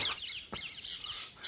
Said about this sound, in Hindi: नहीं नहीं नहीं, तोता चिल्ला रहा है।